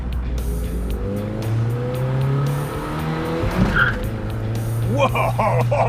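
A muscle car engine roars under hard throttle as the tires break loose on the road and squeal briefly, close by and loud.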